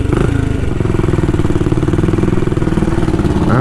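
A classic motorcycle engine runs steadily while being ridden, with a continuous loud, low throbbing drone and mechanical clatter, close to the listener.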